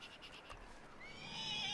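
A horse in the video game Red Dead Redemption 2 lets out a short, close whinny that rises and trails off after a soft snort-like breath.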